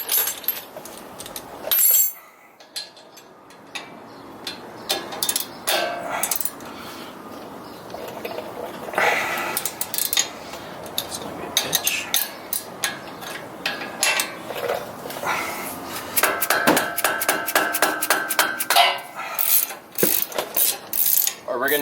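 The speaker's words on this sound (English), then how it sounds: "What I'm gonna do first is I'm gonna remove this sway bar tie rod end" Metallic wrenching and ratcheting on the front suspension of a 2018 Toyota Tacoma during a 4-inch lift install as the sway bar end link comes off, with clicks, clanks and a stretch of rapid ratchet clicking, close and fairly loud.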